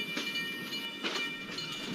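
The 16335 Nagarcoil Express runs along its rails, a steady rumbling roll with rhythmic clickety-clack bursts from the wheels, heard from on board at moderate volume.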